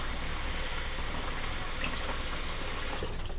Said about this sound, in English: I'm going to wash. I have a sink right next to me